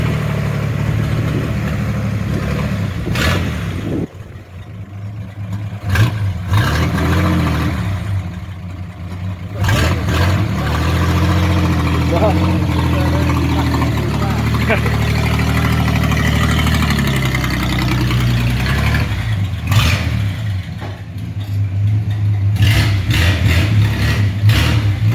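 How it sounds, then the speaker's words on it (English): A 1940s Hudson car with a big side valve engine runs steadily at idle, a loud, close, low rumble with brief dips and surges as it is revved. "So it's quite a big engine. Side valve engine."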